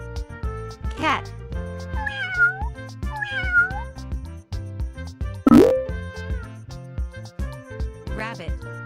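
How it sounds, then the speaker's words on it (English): A cat meows several times, its drawn-out rising and falling cries sounding close and clear over cheerful children's music, with a sharp pop in the middle. "Cat."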